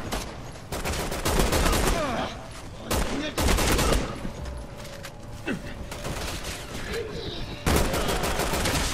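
Gunfire in the video game Resident Evil 6, repeated bursts of rapid automatic shots in several long volleys broken by short pauses, loud and close, with occasional talk between bursts.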